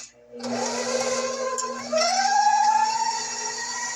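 Electric mixer whirring steadily as it beats room-temperature butter for a cream cheese pecan pound cake, a continuous close motor drone that rises slightly in pitch and loudness partway through, with no talking.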